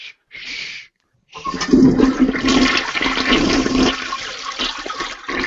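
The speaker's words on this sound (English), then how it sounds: "There's some wet farts in that toilet flush." A toilet flush sound effect from a video game: a brief rush, a short gap, then a loud, sustained gurgling swirl of water with wet sucking noises, heard alone and close.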